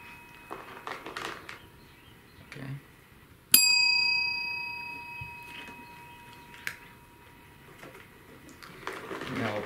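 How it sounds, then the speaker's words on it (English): An orange cat strikes a small desk bell for a treat, and the bell gives one bright ring that fades slowly. Light rustling and a few soft knocks come before and after it, while people talk quietly at intervals. "now it just goes to hitting the bell and getting the treat"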